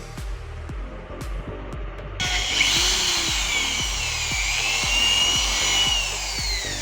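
A power drill bores holes into a plastic extension board box, starting after a couple of seconds of faint knocking and then whining steadily and loudly at close range with a shifting pitch.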